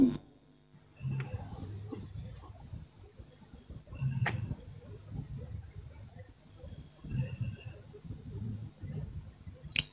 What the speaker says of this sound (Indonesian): Bunyi dia jangkrik.